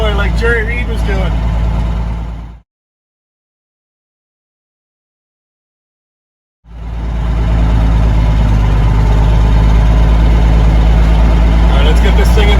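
A truck's engine drones low and steady from inside the cab while driving, broken by a few seconds of total silence before the rumble returns at the same strength.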